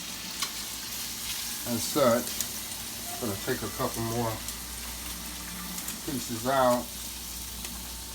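Chicken pieces fry in a pan with a constant sizzle and crackle, while someone talks over it in short bursts, close to the mic.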